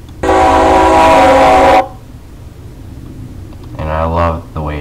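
Custom locomotive horn from Train Simulator 2017 sounds one loud sustained chord blast of about a second and a half, ending abruptly, followed by quiet rumble and a brief voice near the end.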